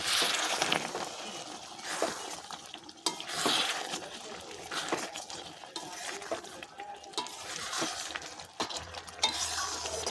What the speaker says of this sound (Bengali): গরম মশলাটা দিয়ে আমি আবারও একটু নাড়াচাড়া করে নেব।